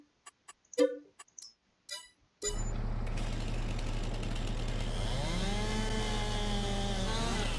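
In a farming video game, a chainsaw starts after a few sharp clicks and settles into a loud, steady engine drone, its pitch climbing and falling as it revs while cutting wood.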